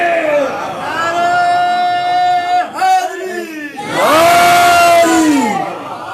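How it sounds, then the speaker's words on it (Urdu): A crowd at a Shia majlis gathering in Delhi chants the Naara-e-Haidari slogan. Massed voices swell in a loud, sustained shout, break off briefly, then rise again in a second strong burst. "تو بھیا نعرے حیدری کیوں نہ لگے؟"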